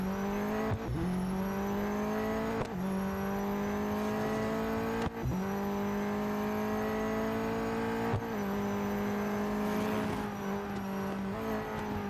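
A car skidding in the racing game Real Racing 3, a sustained engine drone with tire squeal and repeated sharp gear-shift drops, loud and steady throughout with no talk.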